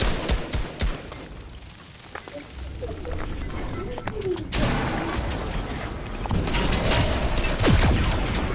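Bursts of automatic gunfire spray in a Fortnite Chapter 2 Season 7 match, loud and broken into ragged clusters, with a player talking over the shooting.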